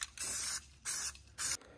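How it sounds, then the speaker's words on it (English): A spray can of rust reformer paint hisses in three sharp bursts, each lasting about a third of a second, with short quiet gaps between them while coating the back of an engine dogbone mount. "So now I'm going to spray paint the backside without gel there because I don't want the paint to drip."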